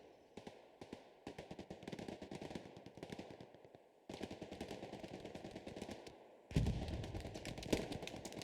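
Dense machine-gun and rifle fire crackles through a forest battle in the World War II shooter Hell Let Loose, with rapid bursts continuing almost without pause and rising louder toward the end.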